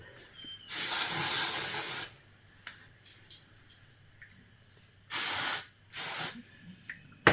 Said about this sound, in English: Take some of this Heritage texturizing spray. I like to kind of hit a little bit around the root area.